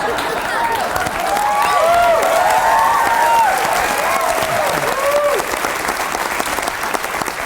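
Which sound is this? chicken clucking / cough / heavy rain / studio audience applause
studio audience applause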